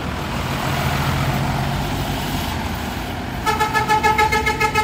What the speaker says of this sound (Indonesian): Pamer klakson mantap.